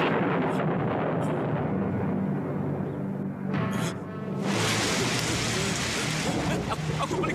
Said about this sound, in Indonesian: Aku paling benci hujan.